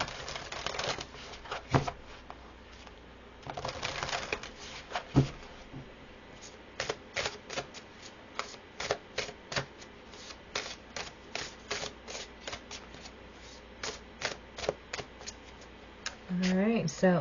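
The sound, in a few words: shuffling and pulling cards from a card deck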